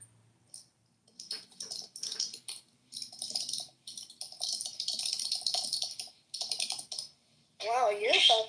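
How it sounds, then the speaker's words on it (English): Rapid clattering keystrokes on a computer keyboard come in dense bursts with short pauses, close and clear, ending in a brief sound with a person's voice. "Wow, you're a fast typer, Lisa."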